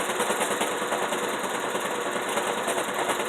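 A sewing machine back-stitches through thick fabric layers, a loud steady mechanical whirring with fast rhythmic needle clatter running continuously and up close, with no voices.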